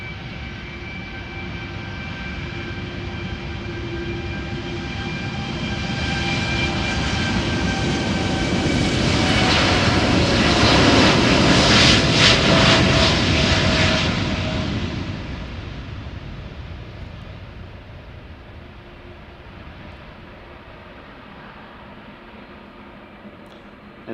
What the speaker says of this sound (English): First up, El Al, Dreamliner, back to Tel Aviv, 7878, flight